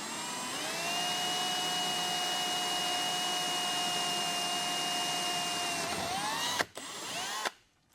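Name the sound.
vacuum cleaner running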